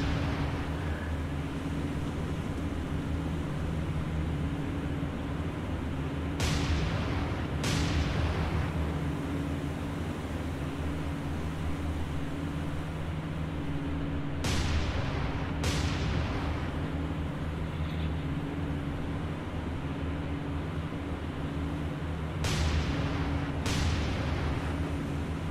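Naval guns fire in the Pacific campaign of War on the Sea, sharp booming reports arriving in pairs roughly every eight seconds over a constant low engine drone.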